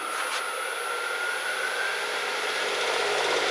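A wood lathe spins a spalted red oak bowl at 1,000 RPM, giving a steady, even whirring hum with a constant high whine that holds unchanged throughout, fairly quiet and with no voices.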